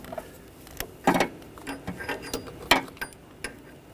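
A ratchet turns an O2 sensor socket to tighten the oxygen sensor on a 2013-2019 Ford Escape during catalytic converter replacement, giving a few scattered, uneven clicks and ratcheting bursts close by.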